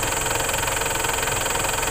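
A Mitsubishi Montero Sport engine runs at a steady, loud idle during a radiator flush, with an even mechanical drone and a constant rattle and no talking.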